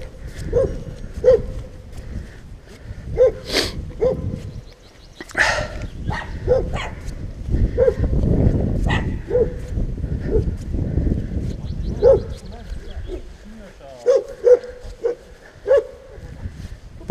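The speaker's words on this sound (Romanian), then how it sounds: "Și niște cățeliuși." Dogs bark at hikers near Piatra Singuratică in the Hășmaș Mountains. The sharp, irregular barks and yips repeat in clusters, fairly close and loud against an open outdoor background.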